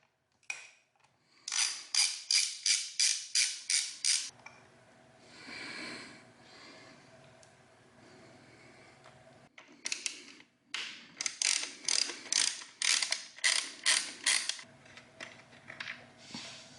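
A ratchet driving a 4mm hex socket clicks in two long rapid bursts while removing belly pan bolts on an Aprilia Tuono RSV4, close and crisp, separated by a quieter stretch of low mechanical rattling.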